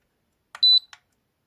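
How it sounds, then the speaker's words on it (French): A single short electronic beep from a dishwasher control board, clear and high-pitched, with faint clicks just before and after, otherwise silence. "quand vous avez entendu le bip bip"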